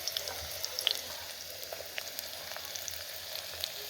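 Onions fry in oil in a pan on a small gas stove, a steady close sizzle with scattered crackles and spits, no talking.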